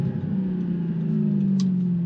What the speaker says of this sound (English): All right, I think we're gonna rev this one out a little bit.